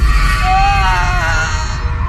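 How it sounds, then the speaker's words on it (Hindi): A terrible, painful scream used as a horror-story sound effect: one loud, wavering cry held for about two seconds over a low, dark rumble. "उसे एक भयानक दर्दनाक चीख सुनाई दी"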